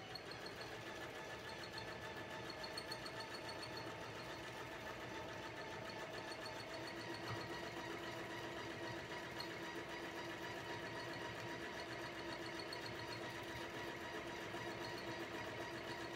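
A sewing machine quilting fabric runs steadily for the whole stretch, a soft continuous mechanical whir and hum at moderate distance with no talking.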